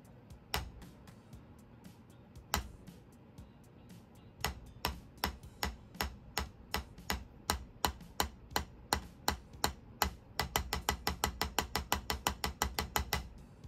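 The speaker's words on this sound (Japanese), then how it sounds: "これは言ってみれば、ゴム製のドラムみたいな感じで、叩くと" Drumsticks tap a rubber practice pad with dry, close clicks, sparse at first, then steady strokes that quicken into a fast, even roll.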